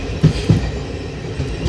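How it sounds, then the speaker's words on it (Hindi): A passenger train rolls into Barkakana Junction in Jharkhand beside a freight train, heard from on board as a steady rumble with two sharp clicks of wheels over rail joints; no talking. "फ्रेट के साथ, हम पैरेलल एंटर कर रहे हैं बरकाकाना जंक्शन में।"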